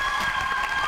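A studio audience at a pantomime game show claps and cheers in a dense, loud burst that fills the whole short moment.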